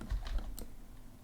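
A computer keyboard clatters through a HyperX Quadcast S microphone, giving a short, faint run of typing clicks over quiet background hiss.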